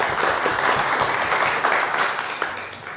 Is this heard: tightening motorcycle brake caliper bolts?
no